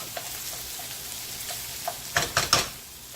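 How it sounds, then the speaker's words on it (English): Peppers sautéing in a pan for Italian-style tilapia, a soft steady hiss with faint ticks, then three louder stirring scrapes near the end, close up with no talking. "this is going to saute a little bit"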